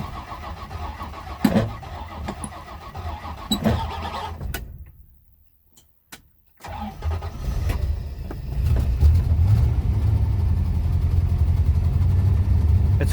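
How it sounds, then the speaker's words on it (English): Rolls-Royce Silver Shadow II engine being cranked and catching on the first try, a brief lull, then the engine firing again and settling into a loud, steady, rumbling idle with a hint of exhaust leak. "it started on the first."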